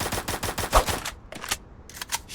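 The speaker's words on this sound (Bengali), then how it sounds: "এই এই সুজা ফায়ার দিস না, তুই মারা খেয়ে যাবি" Rapid automatic gunfire bursts from a shooter video game, a fast rattling string of shots followed by a pause and two shorter bursts, loud and close.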